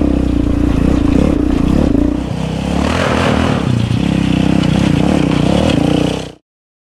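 Motorcycle in second gear riding over logs on a trail, its engine droning loudly and steadily with clattering and scraping bumps as the wheels climb each log, then cutting off abruptly near the end.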